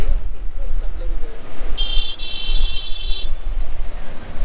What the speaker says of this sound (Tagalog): Sana all may busina!